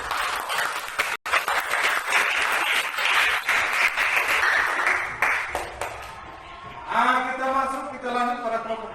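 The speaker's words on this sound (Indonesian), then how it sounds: "maka mari kita berikan aplaus untuk" Audience applause fills a classroom-style presentation session after a student group's presentation, a steady burst of clapping that tapers off, with a voice speaking over the end.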